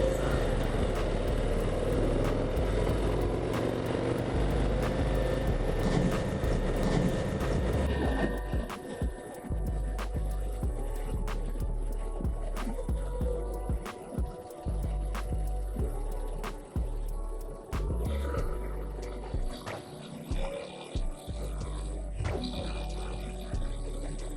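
A 2024 Harley-Davidson CVO Road Glide ST is ridden, its engine a continuous loud, low rumble with wind roar, dipping and surging as the throttle changes across the ride.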